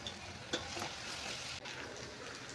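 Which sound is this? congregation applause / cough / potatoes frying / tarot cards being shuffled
potatoes frying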